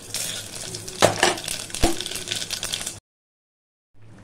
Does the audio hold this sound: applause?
no